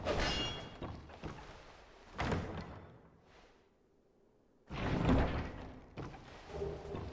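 A heavy wooden chest creaks and thuds open in Dark Souls 2, with a couple of dull clunks and scraping knocks spread over several seconds at moderate volume.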